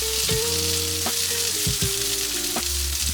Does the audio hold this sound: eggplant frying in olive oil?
yes